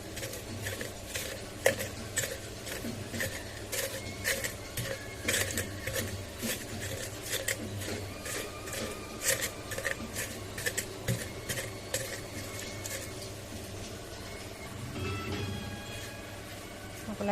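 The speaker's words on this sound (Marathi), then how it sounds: "याला वाटून घेऊ तव्यावर." Green chillies, garlic, peanuts, onion, coriander and salt are crushed into thecha on a hot iron griddle, giving a fast, continuous run of metallic scraping and clinking that carries on steadily throughout.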